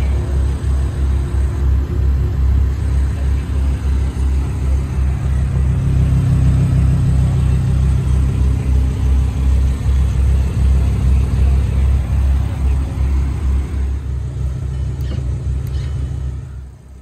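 The 5.2-liter V10 of a 2011 Audi R8 Spyder idles with a deep, steady rumble, swelling a little in the middle and settling again before fading out at the end, with no talking over it.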